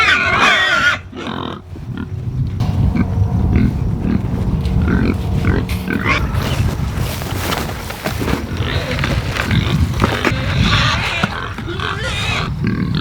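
Pigs grunting and squealing while a man herds the breeding hogs through a gate on a family homestead, a dense, continuous mix of close grunts, shuffling and farm noise with a voice urging them along.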